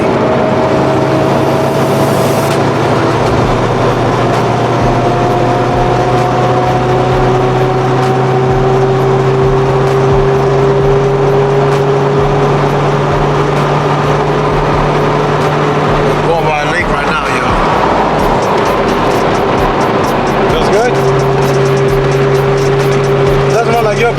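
A new race car drives at speed, its engine a steady, droning hum heard from inside the car, with people talking over it almost throughout.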